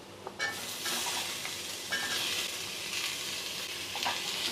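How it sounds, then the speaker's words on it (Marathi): Onion and tomato sauté in a hot pan for a chicken curry, giving a steady, soft sizzle with occasional stirring scrapes throughout. "परतून घेऊया आणि आता आपल्याला सर्व साहित्य तांबूस रंगावर परतून घ्यायचं आहे"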